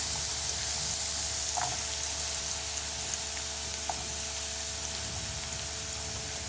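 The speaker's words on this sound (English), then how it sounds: "I've added a tiny bit of oil and it's heating up. Then I throw in my onions." Onions hit a little hot oil on a stove and give a steady, moderately loud hiss and sizzle throughout, with a couple of faint clinks.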